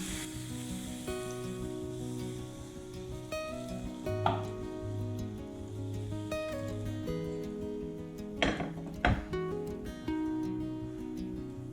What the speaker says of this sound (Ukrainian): І так продовжую смажити всі млинці.